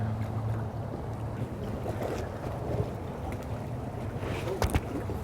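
Steady gusty wind roars across the microphone on a lake, with water lapping and a few faint knocks near the end.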